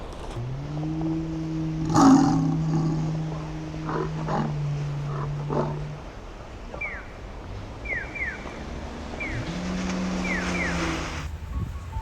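Deep, drawn-out roars and growls from an animatronic dinosaur echo with a mechanical edge, mixed with background rumble and a few higher squeals.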